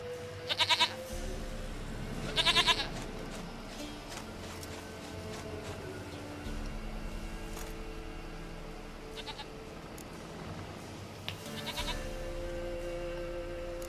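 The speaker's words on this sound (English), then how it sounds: "Goat of mine, dearest, sweetest goat." Goat bleating in The Witcher 3, several short nasal bleats at intervals over a low outdoor ambience with background game sounds, moderately near and fairly loud.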